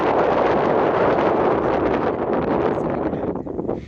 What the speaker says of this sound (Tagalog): Grabe nga hangin ang lakas, diba?